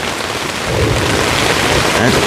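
Steady, loud rain pours close by on a tent at a campsite while low thunder rumbles underneath, swelling slightly toward the end.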